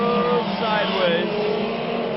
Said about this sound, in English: Number 55 machine going sideways